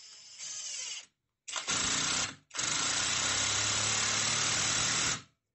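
A ProStormer impact driver sinks a 6x100 screw at torque level 1, giving a loud, close whirring and rattling hammer burst, a short pause, then two more sustained driving bursts that cut off abruptly.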